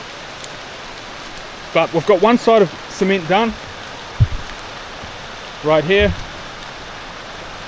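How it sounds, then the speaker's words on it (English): Heavy rain pours steadily over a hillside driveway being concreted during the Philippine rainy season, a constant wash of noise beneath brief bursts of speech. "Torrential rain is luckily not washing it away."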